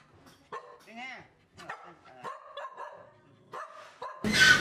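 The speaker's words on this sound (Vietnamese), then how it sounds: "đi làm về thấy đàn chó ùa ra đón" A pack of dogs greets an elderly owner arriving home, giving close yips, barks and excited whines in uneven bursts, ending in a sudden noisy rush.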